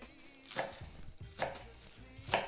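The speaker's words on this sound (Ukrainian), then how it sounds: "Не лише ріжу зелене перо" A knife chops homegrown green onion on a cutting board in three separate, crisp cuts spaced about a second apart, fairly close and clear with no talking.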